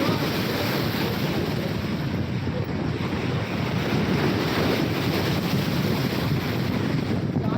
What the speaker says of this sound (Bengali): দেখতে পাচ্ছ সমুদ্রে ভয়ঙ্করভাবে উত্তাল হয়ে আছে